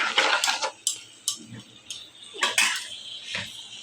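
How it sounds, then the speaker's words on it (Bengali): Vegetables, including gourd, sautéed in a pan for a fish-head dish, with a run of sharp utensil clinks and scrapes against the pan, close and fairly loud, with no talk. "আর সবজি এখন আমি এইভাবে কষিয়ে"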